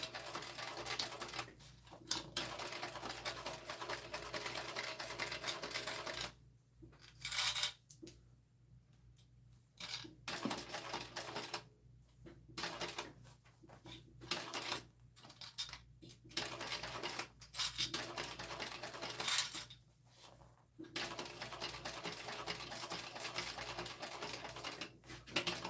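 A sewing machine back-stitching over connectors while basting on binding, running in steady rapid bursts with short pauses between runs, fairly quiet and close.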